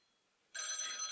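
A telephone starts ringing abruptly halfway through, a bright, buzzing electronic ring that continues loud and close to the end after near silence.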